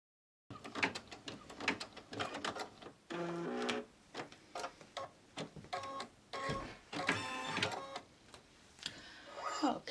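An embroidery machine stitches the tack-down along the sides of a mug rug, a steady run of rapid mechanical ticking and whirring close by, broken by brief pauses and small clicks.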